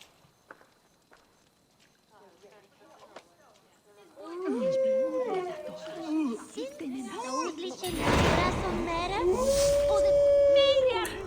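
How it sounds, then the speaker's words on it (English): Wild canines howling in the game Assassin's Creed Valhalla, long wavering howls building and overlapping, growing loud toward the end with growl-like layers beneath. "If you don't stop all your damn howling."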